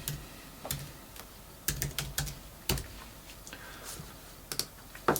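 Keys on a computer keyboard being tapped, with light, close clicks in short uneven bursts separated by brief pauses, over a faint background hum.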